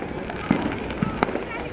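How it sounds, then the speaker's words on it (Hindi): Firecrackers popping at a nighttime festival celebration nearby, a few scattered distant bangs over steady background noise, with a voice talking in between. "सब पटाखे ही है,"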